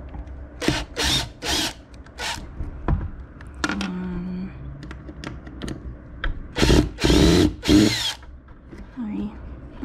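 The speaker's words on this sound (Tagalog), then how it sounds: "we're gonna use a drill para tanggalin tong mga screw na to" A power drill spins in several short bursts to back out screws during upholstery work, with pauses between runs and a quieter stretch of handling noise in the middle.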